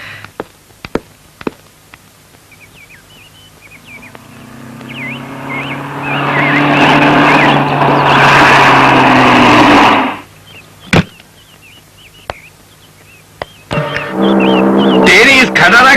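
A rickety old car engine sputters, then builds to a loud, rough roar for several seconds before dropping away, with scattered knocks and clatters around it.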